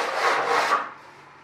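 Rough 80 grit sandpaper rubs back and forth along the tight edge of an aluminium inspection cover on a Bearhawk experimental airplane build, a close, steady rasping scrape that fades out after about a second.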